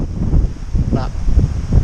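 Heavy wind in the bush of the Ruahine Range during red stag roar season buffets the microphone in low rumbling gusts throughout, with faint indistinct voice-like sounds mixed into the roar.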